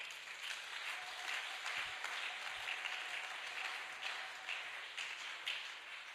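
A church congregation applauds in a continuous, even wash of clapping that lasts about six seconds. The sound is moderately distant and fills a large room, with a faint sustained tone underneath.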